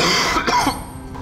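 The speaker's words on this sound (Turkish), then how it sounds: "Öksürüyorsun ama hala." A person coughs a few times in quick succession, close and fairly loud, then a quiet trailing breath.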